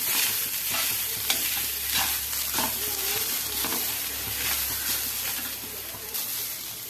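Grated coconut roasting in a pan on a lowered gas flame, stirred with steady scraping strokes over a continuous close sizzle, with a few sharper scrapes and knocks against the pan.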